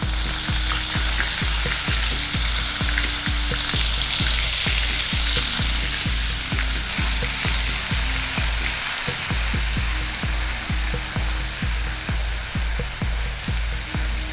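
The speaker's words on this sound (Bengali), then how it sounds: "আদা আর পেঁয়াজটা ভালো করে কষিয়ে নেব যাতে কাঁচা গন্ধটা চলে যায়।" Ginger and onion paste sizzles and fries steadily in hot oil while being cooked down for fish korma, a dense continuous crackle with a faint rhythmic stirring pulse throughout, close and fairly loud, with no talking.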